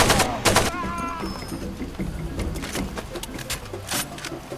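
Gunfire in the video game Far Cry 2 rings out as a few loud sharp shots early on, followed by a stretch of rapid, rattling bursts of fire mixed with game noise.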